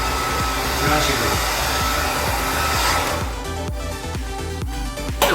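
A hair dryer blows close and loud while a man's hair is styled with heat alone, a continuous rushing whoosh whose tone shifts partway through as the airflow moves.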